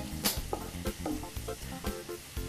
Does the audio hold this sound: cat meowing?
no